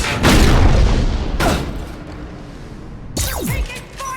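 Gunfire and heavy blasts in the sci-fi shooter Mass Effect 2: loud booming bursts and rattling shots in close succession, with a short lull before another sharp volley near the end.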